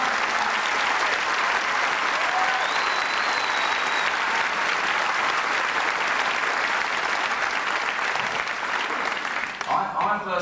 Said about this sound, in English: it is worth a big round of applause for what you're about to see